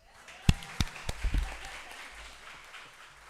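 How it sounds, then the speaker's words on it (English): In a university lecture hall, a few distinct, loud claps from audience members ring out early on, and then scattered applause tapers into a quieter room ambience. "never forget to give an applause"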